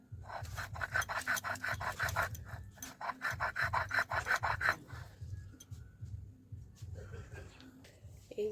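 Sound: grinding neem leaves on a stone slab (shil)

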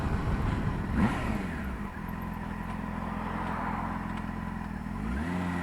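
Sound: Yamaha FZ6 motorcycle engine revving

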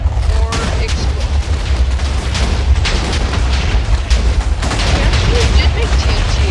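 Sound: TNT exploding in the video game Minecraft

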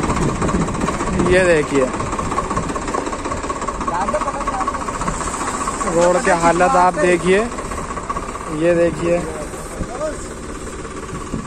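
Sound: tractor engine towing a stuck vehicle

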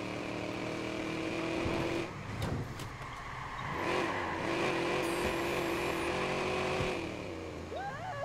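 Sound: car driving in video game Watch Dogs

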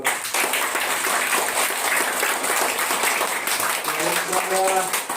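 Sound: applause welcoming school guests

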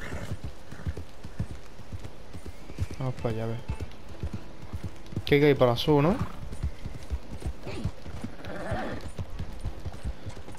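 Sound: horse hooves galloping in video game Red Dead Online

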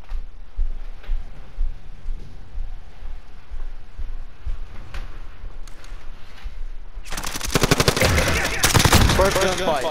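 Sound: M4 rifle gunfire in Call of Duty Modern Warfare video game

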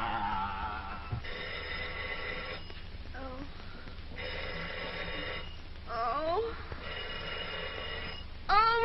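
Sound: telephone bell ringing

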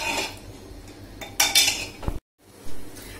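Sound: stirring mutton with onions and water in pot

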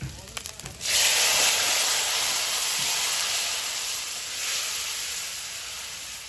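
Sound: vegetables added to hot spiced oil sizzling in a pan

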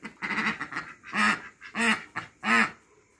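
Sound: female duck quacking

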